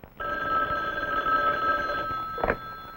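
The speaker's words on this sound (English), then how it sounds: "Phone." A telephone bell rings steadily for about two seconds in a quiet room, a loud continuous electric trill, followed by a short second burst after a brief pause.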